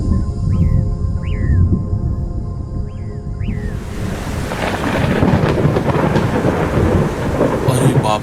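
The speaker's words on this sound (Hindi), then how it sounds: "बाप रे, लगता है बहुत तेज बारिश होने वाली है।" Loud thunderstorm in an animated children's story: steady heavy rain and rumbling thunder fill the whole stretch, with a few chirping bird calls at the start before a broadband downpour swells and continues, no speech.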